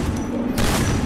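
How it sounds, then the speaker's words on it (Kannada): A shotgun blast in the video game Free Fire, one sharp loud report that cuts in midway through the clip and leaves a broad, noisy tail. "ಶಾರ್ಟ್ ಗನ್ನಲ್ಲಿ ಟ್ರೈ ಮಾಡೋಣ."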